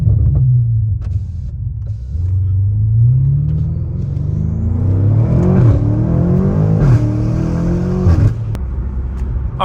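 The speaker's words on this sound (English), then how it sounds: "This has a lot more of a high-pitched, almost like a jet engine sound" An 850hp BMW M5 accelerates from inside the cabin, its engine a loud, deep rumble that climbs in pitch through repeated gear changes, with a high-pitched whine riding over the drone and no talking.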